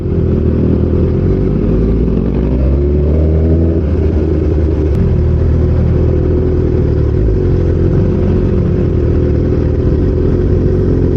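A BMW S1000RR superbike engine drones steadily while riding on the road, a loud continuous low rumble from close by with no talk.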